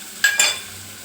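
Onions frying in a pan for a Telugu onion curry, stirred with two quick scraping strokes that briefly lift the sizzle before it settles to a soft, steady hiss.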